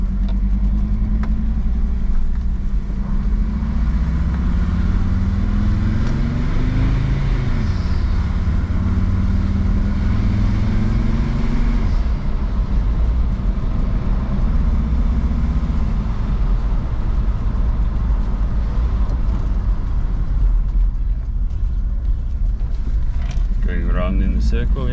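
A Jeep WJ with the 2.7 CRD diesel engine and its EGR deleted drives slowly around in a circle, giving a steady, continuous engine drone close to the microphone with slight rises and falls in pitch.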